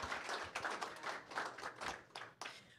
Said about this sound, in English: Let's give it a round of applause for Steve Moore.